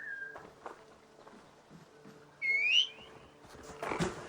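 A player whistles to call farm animals in Assassin's Creed Valhalla, a bright rising-and-falling whistle lasting under half a second, heard over quiet game ambience, footsteps and faint clatter, with a louder thump near the end.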